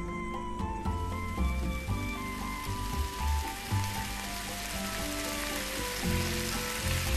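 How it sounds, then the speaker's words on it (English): Food sizzles on a grill in the VR game Cooking Simulator VR, a steady hissing fry that swells and grows louder over several seconds beneath background music. "Grill for 80 seconds on each side, transfer onto a plate."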